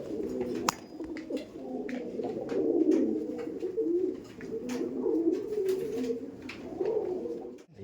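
Imported Giribaj pigeons cooing, soft throaty coos rolling on almost continuously and close by, mixed with light clicks and scuffles of the birds moving, without any speech.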